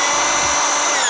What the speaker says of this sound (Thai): ให้ปั่นธรรมดาไปก่อนนะครับให้ทะลุกระเบื้องไปก่อนนะไม่งั้นกระเบื้องจะแตกได้